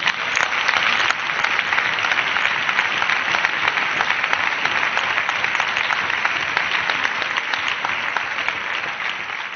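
Members of Spain's Senate applaud after a senator's speech in the parliamentary chamber, a sustained, even burst of many hands clapping that holds at full strength throughout, with no talk over it.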